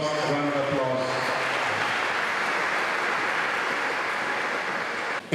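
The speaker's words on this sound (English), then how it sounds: "Please, a round of applause, a round of applause, a round of applause." Audience at an anniversary celebration breaking into steady, broad applause that holds for several seconds, dense and even, after a brief voice at the start.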